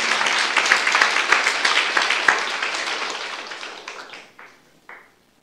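A church youth congregation applauds during a sermon, giving dense, loud clapping that thins out and fades into scattered claps near the end.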